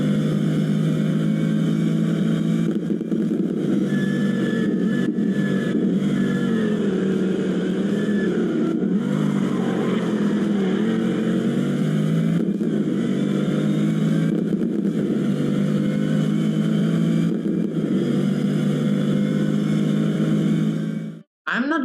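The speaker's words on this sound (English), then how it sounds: "But what really impresses me are the car sounds." A race car engine in a sim racing video game drones and revs continuously, a loud buzzing tone that swells and dips through shifts, with no talk over it, cutting off abruptly at the end.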